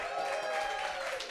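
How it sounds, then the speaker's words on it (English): An audience at a stand-up comedy night claps in a short, steady burst of applause, dense and moderately loud with no gaps. "a round of applause for June Tuesday and Chris Chopin"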